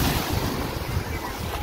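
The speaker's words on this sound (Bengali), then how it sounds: "সমুদ্রের বেগটা দেখুন" Strong high-tide sea waves surge continuously onto New Digha beach, a loud, close, unbroken roar of churning surf with wind buffeting the microphone throughout.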